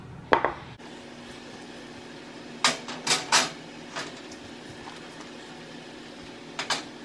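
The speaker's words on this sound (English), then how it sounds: "And the oven's already preheated, so I'm just gonna pop these in the oven." Metal cake pans going into a preheated home oven: a sharp clank, then a cluster of three or four rattling clatters midway and a final light knock, spaced by a quiet steady hum.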